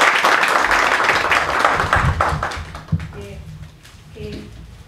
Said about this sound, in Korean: 이 책을 출판한 5월의 봄 출판사 대표님 저 뒤에 와 계시니까 큰 박수 한번 부탁드리겠습니다